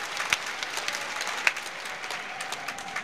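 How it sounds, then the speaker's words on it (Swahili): Audience applauding a Prime Minister at a public event in Dar es Salaam: steady, dense clapping from a crowd throughout, with a few sharper claps standing out, no voices. "Naomba tumpigie makofi mengi sana Mheshimiwa Waziri Mkuu."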